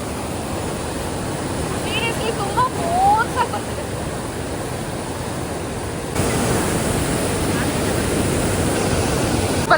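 Rushing water pours continuously at a temple, a dense, steady roar close by that grows slightly louder partway through.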